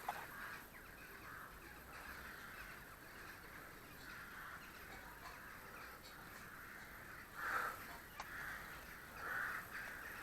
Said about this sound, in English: All the crows.